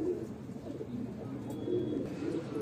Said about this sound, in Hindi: तो ये थे कासनी ललसरे कबूतर